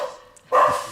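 Dogs bark once, close and fairly loud, in a single short burst during an online committee meeting.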